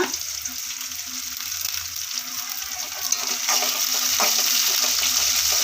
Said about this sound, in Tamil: கருவேப்பிலை சேர்த்துட்டு நல்லா வதக்கிட்டு